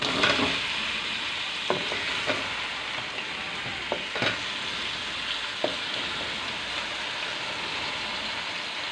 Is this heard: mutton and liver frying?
yes